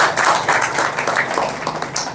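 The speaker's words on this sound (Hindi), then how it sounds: "तो ताली बजाओ।" Audience clapping at a spiritual discourse gathering on yagya rules: a steady, dense patter of many hands, moderately loud, lasting about two seconds with no talk over it.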